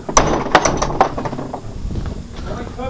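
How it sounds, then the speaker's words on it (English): An old dough mixer churning clay at a pottery, a close, loud mechanical rumble with rhythmic clanks and squeaks of turning gears and pulleys roughly every half second. "that's an old dough mixer there for making the clay"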